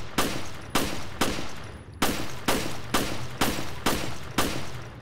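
Gunfire in Resident Evil Revelations, a run of eight or nine heavy single shots at an even, steady pace, each with a short decaying tail, loud and close with no talking.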